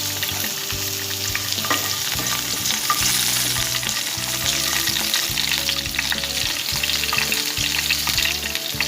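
Whole red chillies crackle and sizzle steadily in hot oil, a continuous loud frying hiss with no talking.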